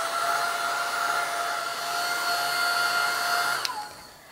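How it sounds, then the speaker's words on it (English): A hair dryer runs at a steady, loud whirring hum while drying gesso on an art board, then switches off with a click near the end. "I'm going to take a dryer and dry this completely"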